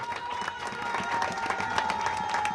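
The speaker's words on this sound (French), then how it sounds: "Applaudissez aussi pour moi" Audience applause fills a hall during a speech event, a steady wash of clapping with scattered crowd noise, fairly loud and continuous throughout with no voice over it.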